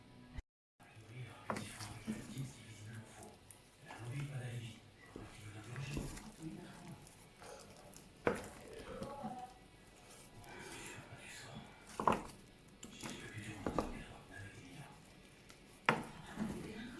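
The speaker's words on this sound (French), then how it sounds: "je rajoute le reste de lait et crème et je mélange" Mashed potatoes are stirred with milk and cream in a pot, giving soft intermittent scrapes and sharp utensil clinks against the pan, with quiet talking in between.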